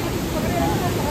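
A waterfall in the Darjeeling hills makes a dense, broadband rushing roar heard close up, steady and loud for a brief moment.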